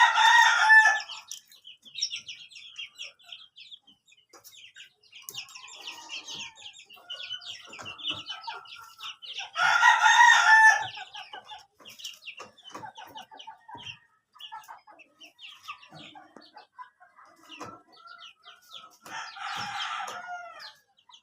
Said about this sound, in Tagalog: Ito po yung ating mga kasisiw